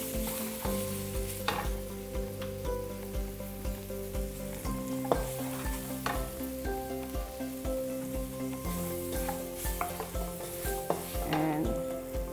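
Tempeh fries in a pan with kaffir lime, stirred now and then, a steady close sizzle with occasional scraping running under continuous background music.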